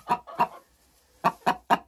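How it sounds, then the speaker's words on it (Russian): A hen that has just laid a large egg clucks up close, two short clucks followed by a pause and then three more in a steady rhythm, loud and clear with no talking. "Вот такое яйцо несет вот такая курочка."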